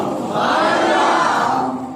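A large crowd at a religious gathering loudly chants Subhanallah in unison, one sustained swelling roar of many voices that rises and fades over a couple of seconds.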